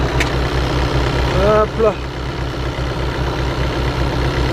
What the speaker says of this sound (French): Ça, c'est un moteur 2 litres, 4 cylindres.